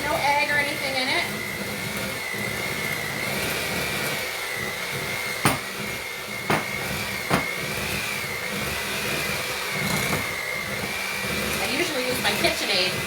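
A KitchenAid stand mixer whips cream cheese for a no-bake low carb pizza casserole, a steady close whirring motor with a few sharp clicks and clanks against the bowl, while a person talks over it.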